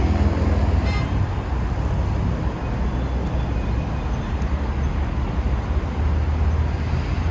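Steady roar of freeway traffic surrounding a park in Mexico City, a dense continuous wash of passing cars and heavier vehicles with occasional faint horn toots, loud and close throughout.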